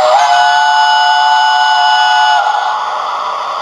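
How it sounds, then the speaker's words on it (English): Long chime whistle from a Hornby LNER P2 2-8-2 model locomotive with TTS sound, a loud steady multi-tone blast holding for about two and a half seconds before easing into a softer fading tail. "Number 2 is chime whistle long."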